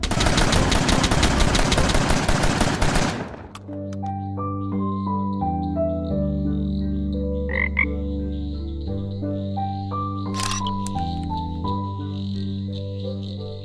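Frog croaks from the cozy farm-sim game Kameru: A Frog Refuge, following a loud noisy burst; layered repeated croaks and chirps over a steady tonal music-like bed, moderately loud with no talking.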